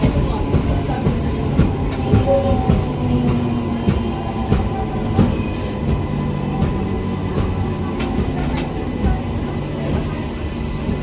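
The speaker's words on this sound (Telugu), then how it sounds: "మన ట్రైన్ ఇప్పుడే స్టేషన్లోకి ఎంటర్ అవుతోంది." A MEMU commuter train rolls into HBL Nagar railway station, its steady low rumble and wheel clatter carrying on without pause, with sharp clicks from rail joints breaking through at irregular intervals.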